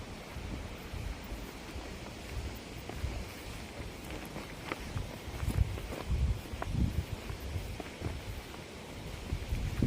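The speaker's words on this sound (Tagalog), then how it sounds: "Medyo malakas ang hangin ngayon at walang araw." Strong wind buffets the microphone in steady, uneven gusts on an overcast day in a garden, with faint rustling and a few soft footsteps underneath.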